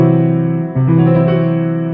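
A sustained chord with a bright harmonic stack, changing partway through as one note shifts down, forming a major triad with its fifth lowered; steady and loud with no talking.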